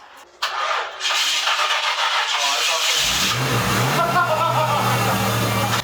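A Honda Civic engine cranks and catches, then settles into a loud, steady idle with a low rumble close by, with no voices heard.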